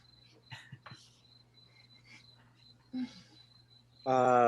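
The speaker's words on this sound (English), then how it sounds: "Or I'll just let my crickets do the singing." Crickets chirp in a thin, high, steady trill that persists faintly in the background, with a few short clicks and a louder burst near the end.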